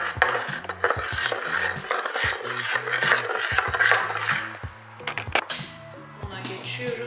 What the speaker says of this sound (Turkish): Sıvıları ilk önce bir güzel karıştırıyorum.